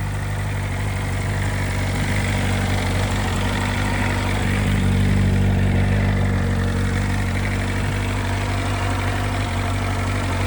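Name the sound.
BMW M1000RR motorcycle idling to warm up, loud exhaust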